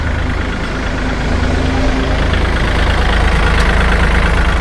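A 2021 Kubota L3218SP tractor engine runs steadily at idle, a loud, close, continuous low diesel rumble with no change in pace throughout.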